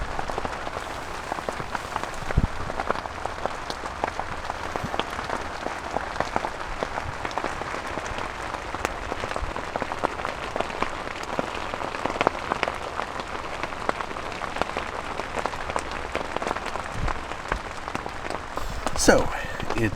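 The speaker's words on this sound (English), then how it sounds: "So, it's raining pretty good right now." Heavy rain drums steadily on a tent at a Yosemite campsite, a dense, close patter with scattered sharper drops, running without pause throughout.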